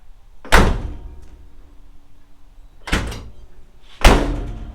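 A Jeep Wagoneer door with a newly installed seal kit shuts three times, each a solid, close, heavy thunk separated by short pauses.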